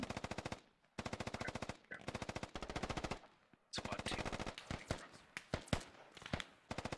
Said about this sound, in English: Oh man, there is a lot of gunfire going on.